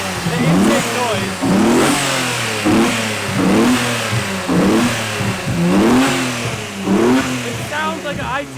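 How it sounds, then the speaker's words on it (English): A Nissan R34 GTR with titanium intakes revs hard over and over, each loud, close blip swelling and dropping back in a steady rhythm, while people talk underneath. "Yo, the intake noise is wild up here."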